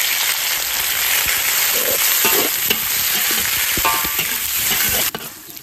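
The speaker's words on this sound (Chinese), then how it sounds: "起锅烧油，直接把肉放进来先炒。" Pork stir-frying in hot oil in a wok for stir-fried pork with garlic sprouts, a loud continuous sizzle with occasional scraping stirs, close up and without speech, cut off abruptly near the end.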